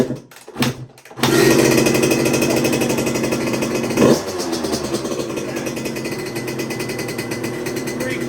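A 1996 Suzuki RM125 two-stroke motorcycle with a new CDI is kick-started, with a few short kicks, then catches and runs loud and close with a rapid, rattling two-stroke idle and a brief blip partway through.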